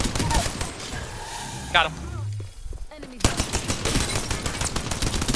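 The Rampage LMG in Apex Legends fires in sustained rapid bursts of loud, close gunfire with a brief pause partway through, mixed with other game effects and a voice talking over it.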